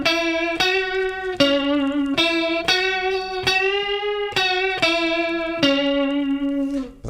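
An electric guitar solo plays sustained notes with wide vibrato, with distortion switched off, each note picked cleanly in a steady run of about a dozen attacks. The tone rings bright and close, with no talking.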